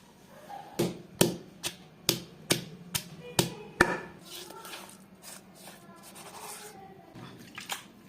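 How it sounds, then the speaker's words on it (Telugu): Garlic being pounded for a village-style country chicken curry: about eight sharp, evenly spaced thuds close up, followed by softer scraping and a few quieter knocks. "ఎల్లిపాయలు కూడా దంచేసుకుందాం"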